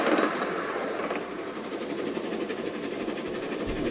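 Isle of Man Steam Railway steam train running at speed, a dense continuous rumble and clatter of wheels on track with a rhythmic chuffing texture, close and steady throughout.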